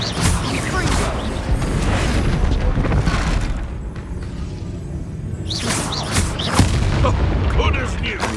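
Confringo blasting spell explosions in the Hogwarts Legacy video game, a dense run of loud booming blasts and whooshes with a brief lull midway before more bursts, overlaid by game voices.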